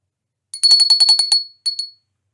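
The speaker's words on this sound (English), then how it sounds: "I'm going to use the bell." A small hand bell rings during a tarot card pile reading, a quick run of bright metallic dings, then a brief pause and two more rings.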